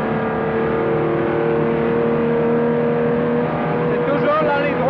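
A 1962 race car runs flat out down the Masta straight at Spa-Francorchamps, its engine holding a loud, sustained high-pitched drone with a slight rise in pitch near the end.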